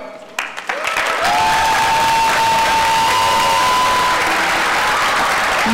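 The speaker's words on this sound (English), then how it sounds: "Would the following John and Abigail Adams scholars please stand and stay standing so we can applaud you? Johan Brito." Graduation audience at a Claremont Academy ceremony applauds and cheers for standing scholars, a loud, sustained wash of clapping with whoops and a long whistle, building quickly and continuing steadily to the end.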